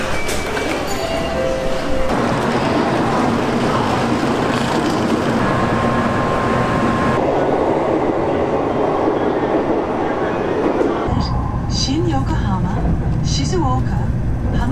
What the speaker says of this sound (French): Bon, on est enfin dans le Shinkansen.